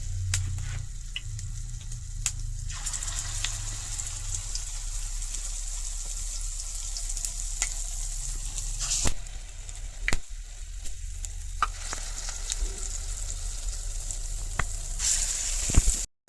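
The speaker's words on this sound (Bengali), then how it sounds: "এখন একটা একটা করে দিম তেলের মধ্যে" Chhana pakoras (paneer fritters) coated in chana dal batter fry in hot oil, a steady close sizzle with faint stirring clinks throughout, no voices.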